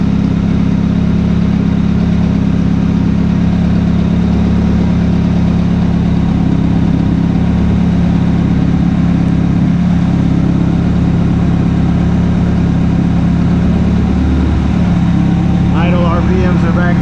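A Honda Prelude engine idles on a dyno as a loud, steady low rumble that stays even throughout, with a voice faintly audible at the end.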